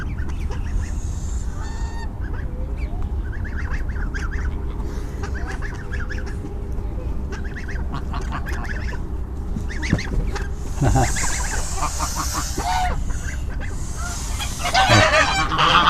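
Geese honk repeatedly in loud, rhythmic bursts close by, with a flurry of flapping and louder calls toward the end.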